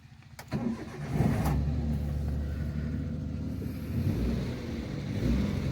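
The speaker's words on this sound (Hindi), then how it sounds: "एक बार मैं आपको इसको स्टार्ट करके इसकी कैबिन में क्या नॉइस हमें मिलती है वो एक बार मैं आपको बता देता हूँ।" A 2011 Maruti Alto LX petrol hatchback heard from inside the cabin as its engine starts with a brief crank and settles into a steady, low idling rumble, moderately quiet and alone without talk.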